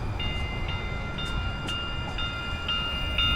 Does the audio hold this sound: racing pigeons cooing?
no